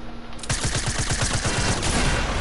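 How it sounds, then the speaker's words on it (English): A rapid string of video game gunshots fired through a fence, about a dozen evenly spaced punchy shots in quick succession over a steady background roar, loud and close. "You can shoot him through the fence."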